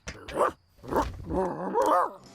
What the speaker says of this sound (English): Oh, stupid drunk dog!